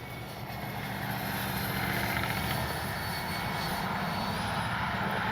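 A Freewing AL37 RC model jet flies overhead with a steady, loud ducted-fan whine and rushing air that holds evenly throughout, with no talking.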